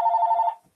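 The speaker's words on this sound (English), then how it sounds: "there goes the phone" A telephone bell rings once, a short clear electronic trill lasting about half a second before cutting off.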